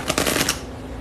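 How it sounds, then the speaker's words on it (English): A deck of reading cards is shuffled by hand in a quick burst of crisp, rapid flutters lasting about half a second, close and fairly loud, then dying into quiet room tone. "I'll be trying to get a good shuffle because these cards be coming out repetitively"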